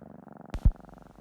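Purring from a cat named Percival, a soft rhythmic rumble close by, broken midway by a couple of brief louder knocks.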